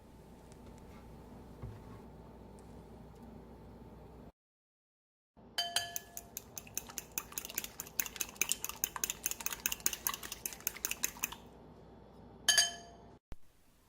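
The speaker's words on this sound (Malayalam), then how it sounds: "എന്നിട്ടൊരു ഫോർക്ക് ഉപയോഗിച്ചിട്ട് നന്നായി ബ്ലെൻഡ് ചെയ്യുക" A fork clinks briskly against a bowl, beating eggs with chopped vegetables for a bread omelette, a fast run of close, bright metallic taps after a short pause, ending in a louder final clink.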